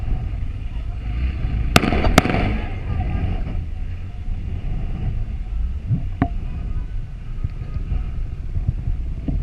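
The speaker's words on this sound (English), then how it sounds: "that's when the officer fires twice at the thief" Two sharp gunshots fired by a police officer at an armed thief, cracking close together around the two-second mark over steady street and traffic rumble, followed later by a fainter single crack.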